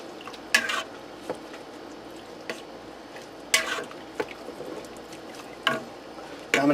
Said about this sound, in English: I'm going to get in here and give this a stir.